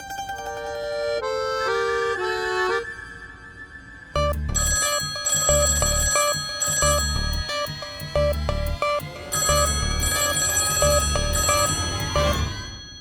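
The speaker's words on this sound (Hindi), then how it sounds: "2-2 घंटी बज के फोन बंद हो रहा है" A household telephone rings in bright electronic trills, first as a short melodic ring and then as a louder repeating pattern over a backing of drama music.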